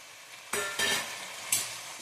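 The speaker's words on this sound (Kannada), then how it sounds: "ಸ್ವಲ್ಪ ಫ್ರೈ ಮಾಡ್ಕೊಬೇಕು" Tomatoes hit hot oiled seasoning for oggarane rice with loud bursts of sizzle, one at about half a second and another a second later, then a quieter crackle between them, close and with no talk.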